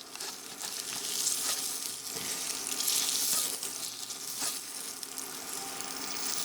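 Eggs frying in a small pan for a keto breakfast, a steady bright sizzle and crackle of hot fat that swells and fades slightly, heard close and alone without talking.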